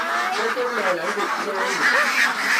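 Ducks quack repeatedly in a close, busy chorus, nasal honking calls overlapping with a person's voice throughout.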